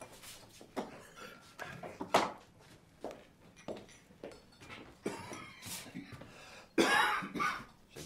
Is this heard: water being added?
no